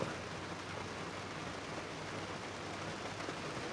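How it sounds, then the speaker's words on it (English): Steady rain falls on a parking lot outside a store, a dense even hiss that stays quiet and constant throughout with no voices. "Gotta love the rain"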